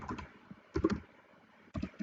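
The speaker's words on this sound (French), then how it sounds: "je fais B à partir de mon clavier Enter" Typing on a computer keyboard while drafting in AutoCAD, with three separate bursts of quick, fairly quiet key clicks split by short pauses.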